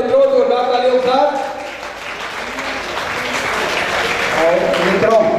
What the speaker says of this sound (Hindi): मित्रों जोरदार तालियों साथ।